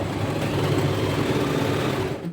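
A sewing machine stitches a blouse with a continuous, even mechanical whir and rapid needle hum at close range, steady for the whole stretch and easing off at the very end, with no talking.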